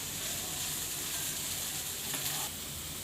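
Chicken sizzles in a pan with onion and capsicum as it cooks for cheesy chicken patties: a steady, close frying hiss that holds throughout, with a brief stirring scrape near the end.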